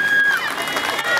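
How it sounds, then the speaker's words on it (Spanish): A crowd at a police and municipal security dog demonstration cheers and claps in a brief loud burst, with a high whistle tone cutting through the roar. "Fuerte el aplauso."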